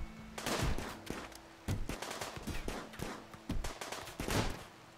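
Rapid bursts of small-arms gunfire during a raid invasion in the colony game Rimworld, crackling volleys and repeated shots rolling on continuously at moderate volume with no talk.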